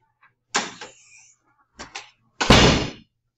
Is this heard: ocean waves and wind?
no